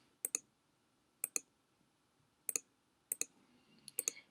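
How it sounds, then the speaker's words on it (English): A computer mouse clicks close and crisp, in five quick double-click pairs spaced about a second apart over a quiet background. "You're able to remove columns by clicking the tab on the right."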